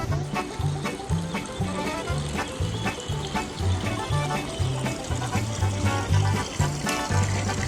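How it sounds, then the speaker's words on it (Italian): Rushing, splashing water from a waterfall, loud and continuous, with uneven surges of spray and no talking. "Siamo esattamente sopra la cascata"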